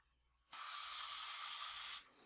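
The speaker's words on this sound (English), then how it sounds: "So you just spray it on like this," One short, steady hiss of Pledge polish sprayed onto a paper towel for cleaning a Super Nintendo console, lasting about a second and a half against a quiet room.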